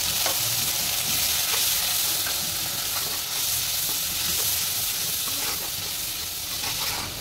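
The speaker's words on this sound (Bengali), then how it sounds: "আমরা মশলাটা এখন কষাই, 5 মিনিট কষাবো।" A spice paste of turmeric and chili with a splash of water sizzles and hisses continuously as it is stir-fried in oil for a tengra fish curry, loud and close throughout.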